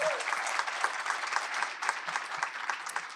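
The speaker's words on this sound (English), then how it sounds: "Let's just applaud one more time for the Honorable Andrea Stewart-Cousins." Steady applause from an audience fills the room at a legislative breakfast on Black maternal health, dense continuous clapping heard from a moderate distance with no talking over it.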